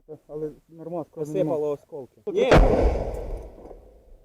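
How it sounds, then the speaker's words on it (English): Artillery fire in the Bakhmut region on a Ukrainian front line: a single loud, sharp blast lands right after someone speaks, followed by a long, rumbling decay. "We've got artillery on us."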